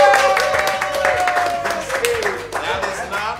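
A studio audience clapping on a car show set, a dense burst of applause that fades gradually, with voices speaking over it.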